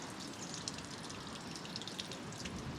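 Grey washing-up water from a campervan sink drains out in a steady, hissing gush with faint dripping, low in level.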